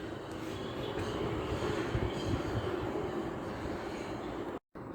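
A train pulling away from Sandling station, its steady broadband rumble and rail roar filling the scene at close range, holding level throughout before a brief dropout near the end.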